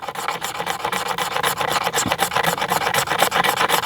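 A magnesium fire starter block is scraped into shavings with rapid, rhythmic rasping strokes, close and fairly loud, steady for several seconds with no talk.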